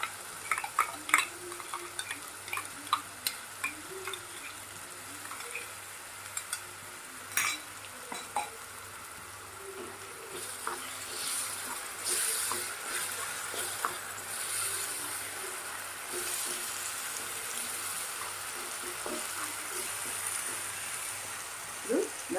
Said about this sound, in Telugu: ఉల్లిపాయ పేస్ట్ లైట్ గోల్డెన్ కలర్ వచ్చేసరికి ఫ్రై చేసుకోవాలి మసాలా కూడా చక్కగా వేగిపోయిన తర్వాత టమాటా పేస్ట్ కూడా వేసేస్తున్నాం